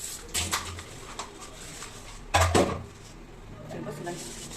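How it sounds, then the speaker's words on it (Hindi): Dishes washed by hand in a home kitchen: clinks and clatters of utensils and pots, with one louder clank, under a voice talking and faint bird cooing in the background. "ये कुछ बर्तन थे जो मैं अभी हाथ के हाथ धो दे रही हूँ"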